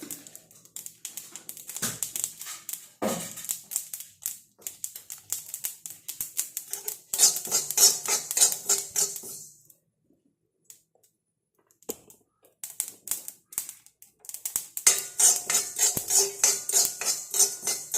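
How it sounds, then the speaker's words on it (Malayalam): Spices, including two spoons of nigella seeds, are dry-fried and stirred in a pan at home, giving close clicking and scraping spoon-against-pan clatter in busy bursts, with a quiet pause midway. "ഇതെല്ലാം കൂടെ കൂടി നല്ല പോലെ ഫ്രൈ ആക്കി എടുക്കുക"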